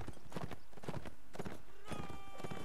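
Horse hooves clip-clopping at a gallop in the Mount and Blade Napoleonic Wars battle game, a rapid, steady beat of hoofbeats over battlefield noise with a brief neigh near the end.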